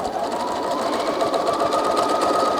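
A sewing machine runs continuously, stitching rows on a quilted table runner with a fast, even mechanical whir up close.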